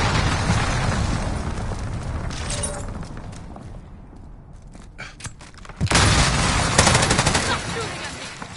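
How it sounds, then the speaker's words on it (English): Call of Duty Modern Warfare 3 battle din: dense, loud gunfire and a rumbling explosion, with a quieter lull midway before a sharp burst of blasts and shooting resumes. "Enemy cruise missile incoming."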